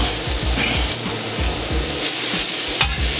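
Onion and carrot searing on a hot steel grill top, a loud, steady sizzle with rhythmic low scraping and rubbing of a spatula throughout, close up with no voices.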